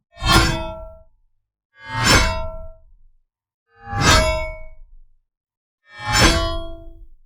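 Four separate metallic sword resonance tails, designed as variations of a two-hand blade sound, each ring out with a sharp onset and a decaying shimmer, spaced about two seconds apart.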